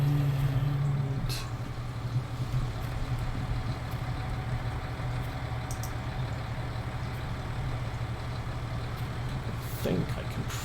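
A tractor engine in the farming video game Farming Simulator 19 idles in a steady low rumble, with a few faint clicks and knocks over the continuous drone.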